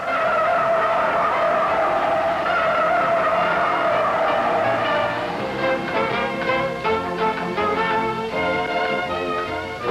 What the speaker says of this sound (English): when you push it through, hard understeer sets in, and the front end washes out